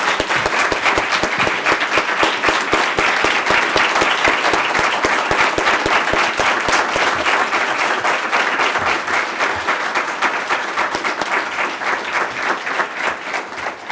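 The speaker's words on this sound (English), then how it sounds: "I just think we owe you a round of applause for what you did" Sustained applause from an audience at a pro-life gathering, dense and steady hand clapping from a large crowd lasting throughout, gradually thinning slightly toward the end.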